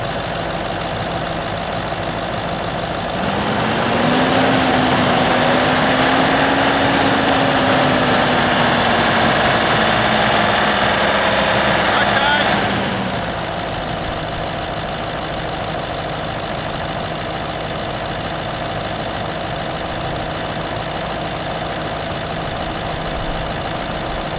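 A car engine idles steadily, then revs up to 2,500 rpm and holds a higher, louder pitch for several seconds before dropping back to a steady idle.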